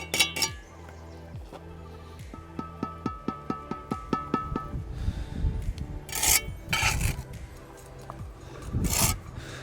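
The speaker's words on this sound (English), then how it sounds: "pop your bricks on top, tap them down" Bricks set onto mortar for a brick BBQ and tapped down, making a series of sharp, evenly spaced taps and clinks, followed by louder scraping and rasping of trowel against brick.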